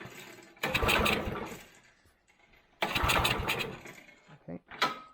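An old abandoned go-kart's petrol engine is cranked on choke, giving two separate rough, chattering bursts of about two seconds each with a pause between them and faint handling noises after.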